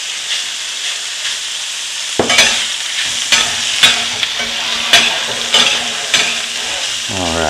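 Ground taco meat hits hot oil in a pan for street tacos, breaking into a loud, steady sizzle with repeated scraping stir strokes over the crackle; near and continuous, no voices.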